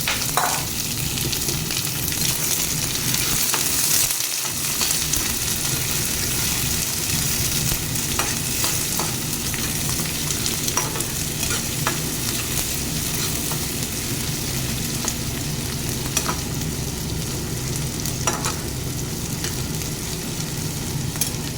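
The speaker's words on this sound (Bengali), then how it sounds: "এবার এই পেঁয়াজটাকে ভালো করে কষিয়ে নেব।" Onions fry and get stirred in hot oil with cloves, cardamom and cinnamon for chicken kosha, making a loud, steady, dense sizzle with frequent scraping stirs throughout.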